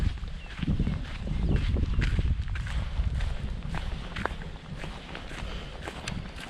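Footsteps crunch along outdoors at a steady pace, close by, with a constant windy rumble and a few faint knocks in the background.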